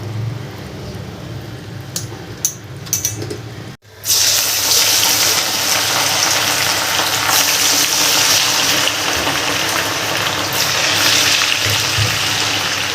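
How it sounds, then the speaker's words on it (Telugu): Cauliflower pakodi dropped into hot oil for deep frying: light handling noises give way to a sudden loud, steady, bubbling sizzle that continues close by. "ఇది ఇప్పుడు ఆయిల్లో డీప్ ఫ్రై చేసుకుంటే అయిపోతుంది అంతే"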